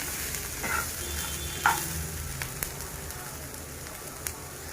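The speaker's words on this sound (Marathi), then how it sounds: "हे सगळं मी भाजायला घेतलंय" Steady frying hiss from a pan roasting masala ingredients for a crab curry, with occasional clinks and scrapes as ingredients are stirred, close and moderately loud, no voices.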